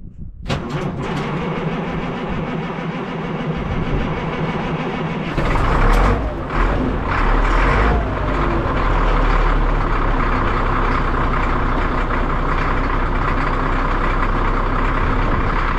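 An old truck's engine runs and gets revved, starting with sharp knocks and clatter before a loud, heavy rumbling idle that swells and settles into a steady roar.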